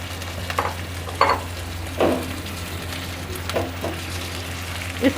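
Chicken pieces frying in a pan for bhuni bhindi chicken, a steady low sizzle broken by several scraping strokes of a spoon as the pieces are stirred.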